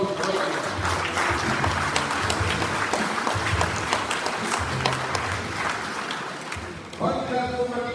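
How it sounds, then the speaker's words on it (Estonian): Audience applause at an EKRE party event in Tallinn presenting Riigikogu election candidates, a dense steady clapping from a sizable crowd that fills the whole stretch before fading near the end as a voice returns. "Nii et aplaus kõigile."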